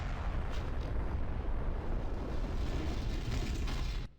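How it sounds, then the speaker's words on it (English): Explosions rip through a spaceship as it departs in the video game Sabotain, a continuous muffled roar of blasts and rumbling debris that stops abruptly after about four seconds. "The spaceship is leaving, everything is exploding."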